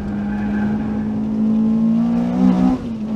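A Honda Civic on a race circuit, its engine a steady loud drone that climbs in pitch before cutting off abruptly near the end.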